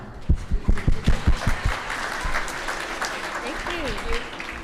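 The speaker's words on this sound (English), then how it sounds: "this is where you clap" An audience at a charity slam event claps to welcome two presenters: a few loud, close claps open, then a broad wash of crowd applause carries on beneath voices and a brief whoop.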